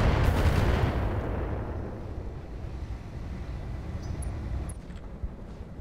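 Mech weapons fire at a Locust in the Roguetech video game: a heavy boom at the start rolls into a long rumbling decay, with a few faint clicks later on and no voices.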